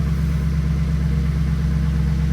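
A Pontiac car engine idles steadily nearby with a constant low hum and a slight misfire, with no voices.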